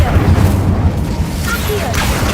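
An Incendio fire spell is cast in Hogwarts Legacy, producing a booming burst of flame with a low rumbling roar and crackling tail, loud and close, with a voice shouting over it.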